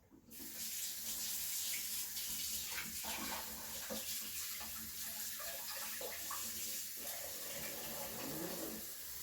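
Tap water runs steadily into a sink to soak a mixing spoon during cold process soap making, a continuous close splashing rush lasting throughout with small clinks of utensils and no talk.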